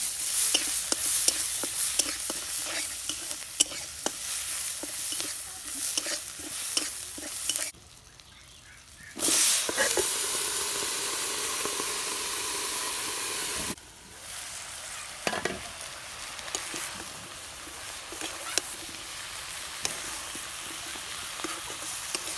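Pangas fish curry with potato, eggplant and tomato sizzles loudly in a hot pan while being stirred, a continuous crackle broken by scraping stirs and two brief pauses.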